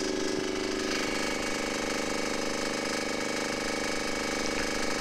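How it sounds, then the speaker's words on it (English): A small Chinese diesel engine powering a log splitter runs in freezing 17°F cold, giving a steady, loud, rapid knocking chug that continues without pause. "At 17 degrees Fahrenheit, the log splitter sure is cycling slow."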